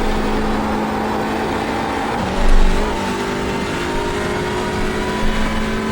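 Hyundai Elantra race cars in the iRacing game at the Oulton Park circuit give off a loud, steady engine drone with no break. A brief swell in the low rumble comes about midway, and no one talks.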